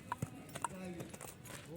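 A horse being trained for dancing and sitting makes a few soft hoof clip-clops under ongoing talk, with faint irregular steps in the background.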